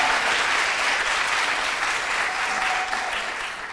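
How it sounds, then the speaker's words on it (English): Graduates and guests at a 2022 graduation ceremony and symposium applaud loudly and continuously, a dense wash of clapping that holds steady and eases slightly near the end. "Round of applause, please"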